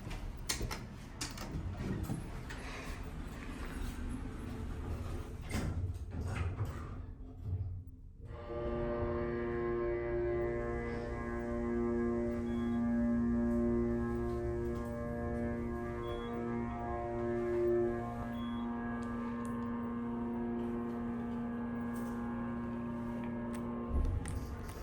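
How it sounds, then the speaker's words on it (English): A hydraulic elevator motor (PTL mod) runs in the Rankin Ave parking garage in Asheville. After some clunks and shuffling, it starts up with a loud, steady, droning hum that holds to the end. "That was the best motor I've ever witnessed."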